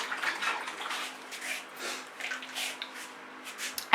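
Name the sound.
rinsing paint off hands under running water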